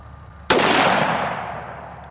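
A Taurus Judge revolver fires a single 7.5 shotgun shell, a sharp loud blast that cuts in abruptly and trails off in a long, slowly fading echo.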